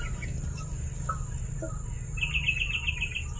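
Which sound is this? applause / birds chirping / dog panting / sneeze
birds chirping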